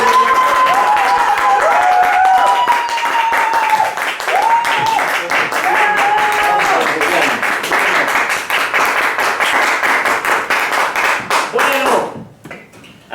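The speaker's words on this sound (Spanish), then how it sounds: "Vamos a regalarle un fuerte aplauso." An audience claps steadily for a guest at an arts and culture talk, sustained applause running under a speaker's voice before fading out.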